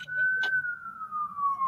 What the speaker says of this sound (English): Sorry for the sirens, guys.